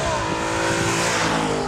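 Audi RS5 Cabriolet engine revving hard, a loud, continuous high-pitched scream that holds steady through a short burst with no talking.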